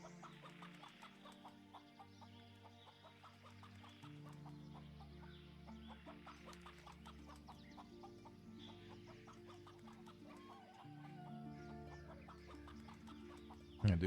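Chickens cluck steadily and softly in a farmyard setting, repeated short clucks from several birds over a low ambient bed, with a brief louder noise at the very end.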